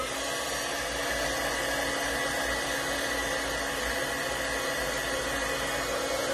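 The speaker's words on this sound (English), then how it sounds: "I'm going to use a heat tool on these for just a minute" A loud, steady heat embossing tool whirs continuously at close range, a harsh hissing rush of hot air with no pauses.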